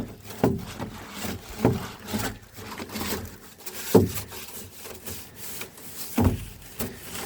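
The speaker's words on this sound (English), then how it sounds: "Give it a good scrub, Luce." A green bristle brush scrubs the inside of a rubbish bin with irregular scraping strokes and occasional hollow knocks against the plastic, moderately close.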